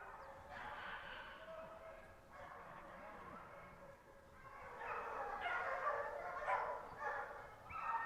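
Hunting dogs bark during a weekend hunt in the Landes forest, their yelps and barks carrying through the woods, growing busier toward the end while people talk nearby.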